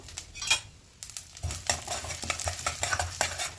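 Stirring and light frying in a pan as mustard seeds, urad dal and chana dal are tempered for rava idli, with scraping clinks of a spoon against the vessel and a faint sizzle, fairly close and steady with no talk.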